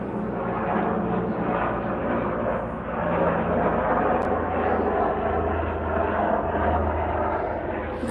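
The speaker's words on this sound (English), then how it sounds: "There they go with them helicopters." Helicopters flying overhead give a steady, loud rotor and engine roar that fills the whole stretch without break.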